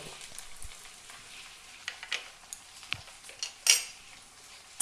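A spoon stirs ground cumin and coriander into a paste frying in a pan for egg devil chops, with scattered metallic clinks and scrapes over a faint low sizzle.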